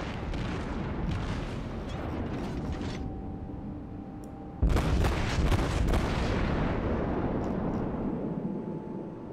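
Naval gunfire from the German cruiser Admiral Hipper in World of Warships: a sustained rumbling, mechanical barrage that jumps to a heavy, loud boom midway and then rolls on as a dense roar.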